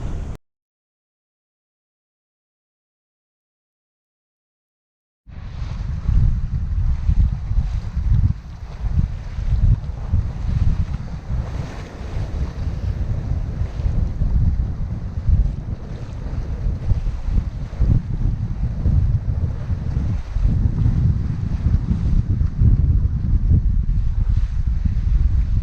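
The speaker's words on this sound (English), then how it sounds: "We have had good winds all across this fjord now." Sailing across a fjord in good wind, a strong continuous rush of wind buffets the microphone with a roar of water beneath, starting abruptly after a few seconds of silence and staying loud throughout.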